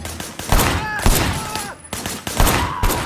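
Sharp gunfire from the video game Sleeping Dogs, shots fired from a car's passenger window, comes in several loud bursts spaced through the clip over a busy background.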